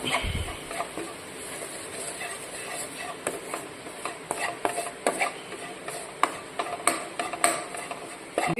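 Chilli powder and coriander powder are stirred and heated in a pan for a tuna fish curry, with steady scraping stir strokes and clinks of a spoon against the pan over a light sizzle, close and continuous with no talk.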